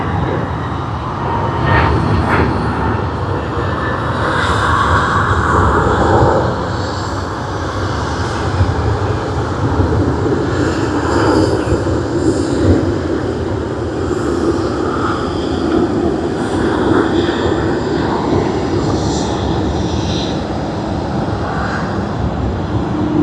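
An ANA airliner arriving and taxiing at Sydney Airport, a loud continuous engine roar and whine holding steady throughout, heard from a distance with no voices.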